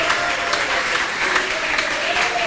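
A church congregation at a Sunday school service applauds together, a steady and loud wash of clapping that holds throughout.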